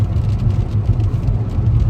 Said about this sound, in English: I hope my car not that loud.